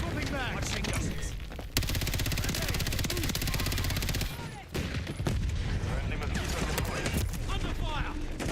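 Sustained automatic gunfire in Modern Warfare III multiplayer, a dense rapid burst filling the middle seconds, with speech and other combat sounds around it and a brief lull near the five-second mark.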